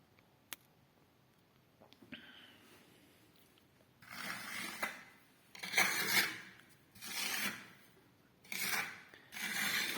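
Repeated passes of a trowel rub decorative marmorino plaster onto a wall, giving a series of rasping, scraping strokes in rhythmic bursts after a quiet start.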